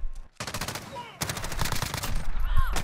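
Hip-fire in a first-person video game shooter: two rapid bursts of automatic gunfire separated by a short pause, loud and close, with a voice talking faintly underneath.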